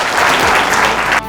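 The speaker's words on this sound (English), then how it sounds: "Everyone give them a round of applause." Audience at a young innovators event bursts into dense, loud applause that keeps going steadily before cutting off abruptly.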